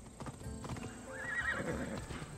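A horse in Assassin's Creed Odyssey gives steady clip-clop hoofbeats and then a clear neigh midway, the sounds close and fairly quiet with no talking over them.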